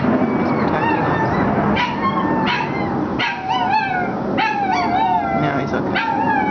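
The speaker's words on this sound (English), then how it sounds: "That dog never howls until a jet plane comes over." A dog howls, yips and whimpers in a string of wavering, rising cries as a jet plane passes overhead, loud and close over a steady background roar.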